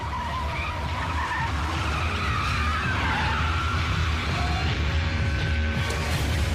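Hard, continuous tire skidding and squeal from a car tearing away during a dramatic movie chase with gunfire, loud and dense with engine roar underneath for the whole stretch, no talk.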